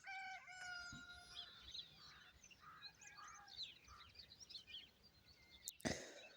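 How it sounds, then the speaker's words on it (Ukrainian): Quiet morning village birdsong under an overcast sky, with scattered chirps, geese honking and a rooster crowing faintly in the distance, ending with a brief louder rustle. "але дуже гарно співають птахи"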